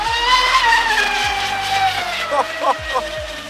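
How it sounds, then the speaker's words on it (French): Steady, high-pitched whine of a Pro Boat Miss Geico 36-inch twin-motor RC boat at part throttle, running at a moderate, even pace, with a few low knocks and thumps underneath. "vous entendez bien que les moteurs sont pas à fond"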